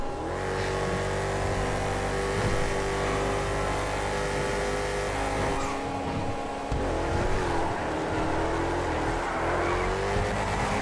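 Rumpo Custom van racing in GTA FiveM, its engine roaring steadily at high revs with slight pitch shifts and tire noise, loud and continuous throughout.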